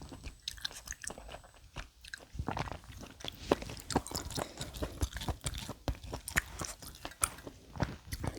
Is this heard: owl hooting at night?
no